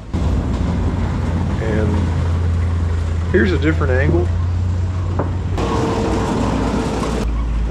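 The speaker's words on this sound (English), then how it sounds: "I didn't really know the difference of a R75 or a KS750, but you can hear it yourself, just how the engine noises are" Engine of a WWII German military motorcycle, an R75 or KS750, running steadily at an outdoor event, a constant low drone with someone talking briefly over it.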